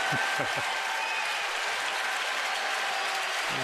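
A sellout stadium crowd of about 45,891 roars and applauds at a Washington at Baltimore baseball game, a dense, continuous wash of cheering that stays loud and steady throughout, with a commentator's voice faintly underneath.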